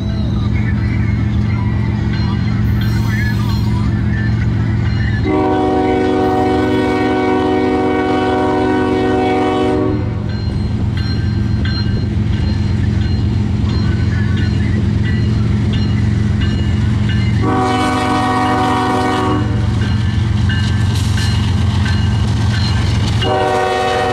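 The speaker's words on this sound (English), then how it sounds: "it's heading to Slim, Illinois, with an NSGE leader, with an NS Gevo leader" A freight train passes on a cold night, led by a Norfolk Southern GE Evolution (GEVO) locomotive with a Union Pacific unit behind. A deep continuous rumble of rolling cars runs throughout, broken by two loud, sustained blasts of a multi-tone horn.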